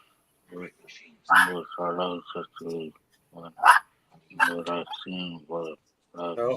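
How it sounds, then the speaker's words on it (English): A dog barks a few times in the background while people talk over it continuously, the short yaps partly buried under the voices. "as you can hear, my dog's still barking"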